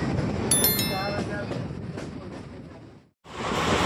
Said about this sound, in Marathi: तर आपले लोकल सुटले आता विरार स्टेशनवरून, वसई रोडला पोचतोय 10 मिनिटांमध्ये